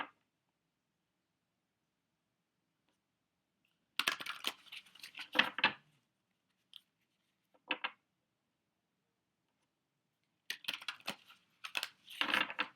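Playing cards being flipped and snapped during a card reading, heard as two quick bursts of crisp slapping and shuffling flicks separated by a few faint taps and near-silence.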